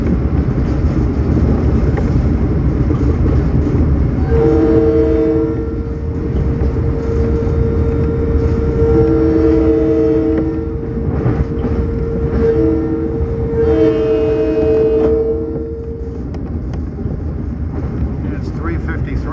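A diesel commuter train on the Port Jefferson line approaches with a loud, steady rumble and rail noise, a two-tone horn sounding several times partway through, heard from on board a nearby train with background chatter.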